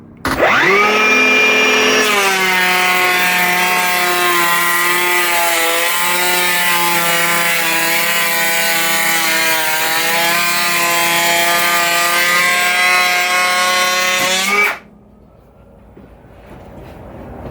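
Milwaukee electric planer taking a 2 mm pass over wood: a loud, steady high-pitched whine with a brief spin-up, a shift as the blade bites, then cutting off abruptly with a fading rundown.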